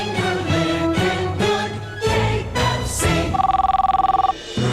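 A telephone trills briefly for about a second at the end, after a stretch of loud music with strong beats.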